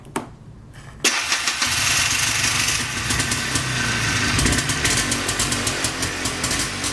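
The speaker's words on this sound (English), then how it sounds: "Yeah, we like that sound. We like that sound a lot." A quiet click, then an ATV engine with a new battery catches and roars to life, settling into a loud, steady, rattling idle close by.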